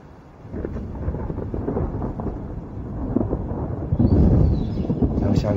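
Thunder rumbles low and continuously ahead of rain, swelling louder toward the end of a stretch of outdoor ambience, with no voices.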